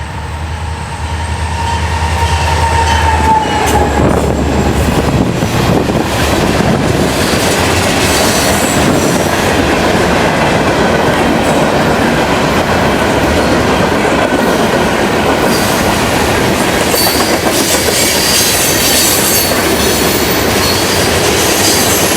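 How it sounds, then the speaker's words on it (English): A Florida East Coast Railway northbound local led by a GP40-2 locomotive rolls past at Boca Raton, loud and close, a dense continuous roar of wheels and rail noise with faint clickety-clack and squeal, sustained for over twenty seconds. "northbound local 945 with a GP40-2"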